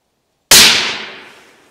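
A single loud, sharp rifle shot from a Proof Research TAC 3, fired close by, with a quick decaying echo and no other sound around it.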